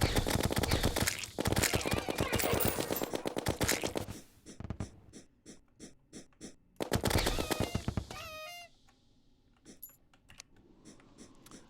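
The Minishark gun fires in Terraria during an Eater of Worlds boss fight, letting off rapid rattling bursts of shots. A long stream comes first, then spaced single pops and a second short burst, with chiming game effects and quieter stretches between them.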